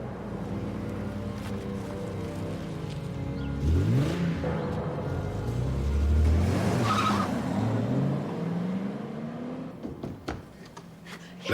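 A kidnapper flees in the victim's car, its engine revving and rising in pitch as it pulls away, with brief tire noise and a fading motor before a few sharp knocks at the end.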